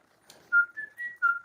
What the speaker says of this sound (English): Give it a little whistle.